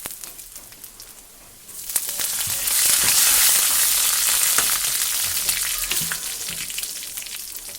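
Curry leaves dropped into hot coconut oil, a sudden loud sizzling burst that stays bright and crackly, close up, with faint spatters and stirring; a quieter oil hiss before it.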